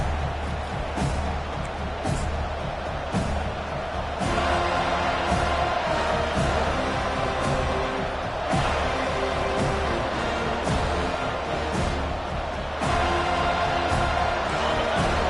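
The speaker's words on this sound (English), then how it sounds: "This crowd trying to show them what it's going to be like all day in this house." A stadium crowd in a college football video game roars steadily at a Seminoles game, a dense wall of cheering that holds for the whole stretch with small surges and no break.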